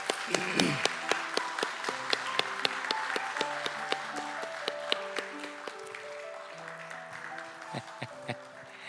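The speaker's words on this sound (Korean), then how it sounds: "박수 한번 부탁드립니다." A church congregation applauds at a Sunday service, a dense, sustained patter of clapping from many hands. Sharp individual claps stand out, and sustained musical tones play underneath. The applause gradually thins toward the end.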